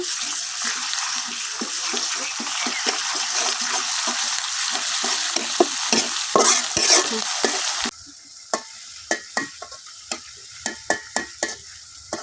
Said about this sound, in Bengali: পেঁয়াজ মরিচের সাথে আদা রসুন বাটা আমি কিছুক্ষণ ভাজা নিচ্ছি